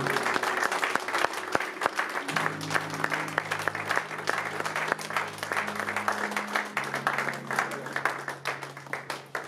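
A church congregation applauds during a worship service, with dense, sustained clapping from many hands that fills the room and holds steady throughout, along with faint voices and a low sustained tone underneath.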